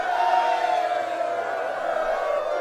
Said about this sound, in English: A huge cheer went up from King Edward's army.